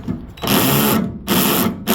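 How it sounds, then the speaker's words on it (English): A cordless drill with its clutch set slips and ratchets loudly, two long harsh bursts of rapid clicking grinding separated by a brief pause, close and alone. "the drill just starts making an awful sound"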